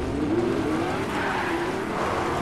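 A Lamborghini-style car engine racing in the game Fortnite, a steady droning rev that rises and falls slightly, close and continuous for a couple of seconds with a faint tire-noise hiss.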